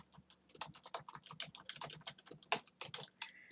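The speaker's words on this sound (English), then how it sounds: "Trying to type in my motto right quick" Computer keyboard being typed on in quick irregular bursts of sharp, close key clicks with brief pauses between, quiet room and no talking.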